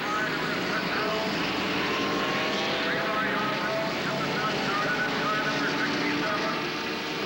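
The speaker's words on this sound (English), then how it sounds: "Wild sound of these turbocharged Fords and Offenhauser engines for the most part." Turbocharged Ford and Offenhauser race car engines at the 1969 Indianapolis 500 make a dense, continuous roar. The broadband engine noise stays loud and steady throughout, with voices mixed into the blend.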